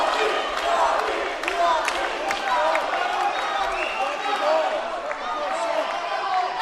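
Crowd noise swells continuously behind an MMA fight, with cheering and shouting in the final minute of a bout; a commentator's voice runs over the steady, fairly loud roar.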